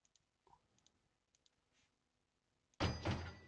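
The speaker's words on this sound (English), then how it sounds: "We're going to need a door." A door is placed in the office-building game Software Inc, giving a sudden loud, full thud with a short rumbling tail after a few faint soft clicks from building placement.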